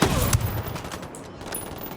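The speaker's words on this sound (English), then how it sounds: "We're in the middle of a firefight." Dense, continuous gunfire rattles through a firefight in the Ghost Recon Wildlands video game, with overlapping shots forming a steady wash of noise for a couple of seconds.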